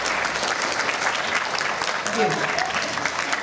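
Audience applause for a jury of teachers at a school reading event, steady dense clapping throughout with a voice briefly speaking over it.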